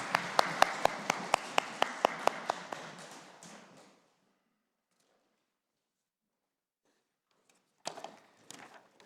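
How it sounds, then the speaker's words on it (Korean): A church congregation claps in a quick, steady run of sharp hand claps for a few seconds, fading out into silence before a few scattered claps return near the end. "하나님께 영광의 박수 올려드리겠습니다."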